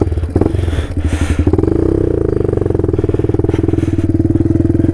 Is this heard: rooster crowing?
no